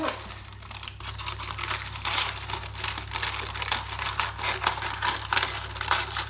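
Paper crinkles and crackles up close with rapid irregular rustles and snips, over a low steady hum.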